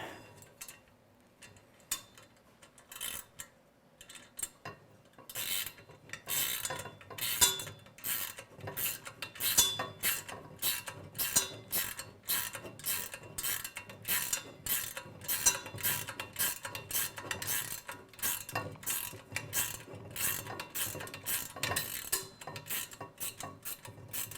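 Bolt being tightened on a back frame assembly for a 2025 VRS robot, a long run of fast, regular metallic ratcheting clicks that grows louder and denser after a quiet start, close by and with no talk.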